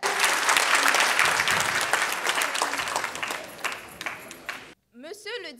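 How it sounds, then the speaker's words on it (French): Applause from the audience at a diploma ceremony for a graduating class, dense and loud clapping that fades, cuts out briefly, and ends with a short ringing tone. "Sous vos applaudissements, s'il vous plaît."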